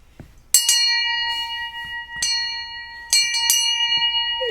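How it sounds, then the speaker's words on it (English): A bright metal bell, rung aboard a ship at sea, strikes four times in uneven succession, each clang ringing out loud and close with a long shimmering decay between strikes. "let's ring the bell. That's the way to start the show."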